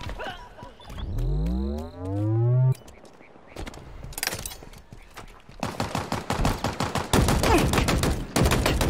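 Gunfire in Halo Infinite arrives as rapid automatic bursts in the second half, sharp and close, following a loud sweeping electronic whine and scattered single shots.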